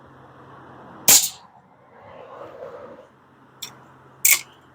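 An Air Arms TX200 HC Hunter Carbine air rifle firing, three sharp close shots with a short pause, the second one softer, over a quiet background.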